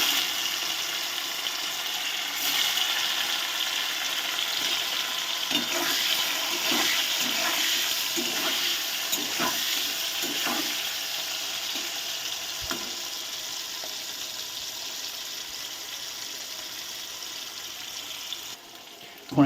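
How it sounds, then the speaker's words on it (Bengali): Cut paneer pieces fry in a little salted oil, a steady loud sizzle with scattered crackles and spits that carries on unbroken with no voices. "এবার কেটে রাখা পনিরগুলো দিয়ে দিচ্ছি।"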